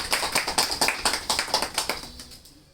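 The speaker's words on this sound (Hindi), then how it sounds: "प्रेम सरोही जी के लिए जोरदार तालियों का स्वागत।" An audience at a speech event claps for a speaker in a short burst of rhythmic applause from a fairly small crowd, fading out after about two seconds.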